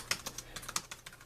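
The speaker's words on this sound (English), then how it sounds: "This is a typing test of the Inateck" Keys clatter on an Inateck keyboard case for iPad Pro 12.9-inch third generation in a quick, irregular run of about a dozen close, light taps.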